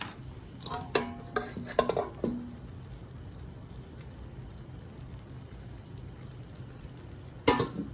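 Cooked nopales tipped into a pot of pork ribs make clattering knocks and wet plops in a short cluster, then a quiet simmering lull before one more clank at the end.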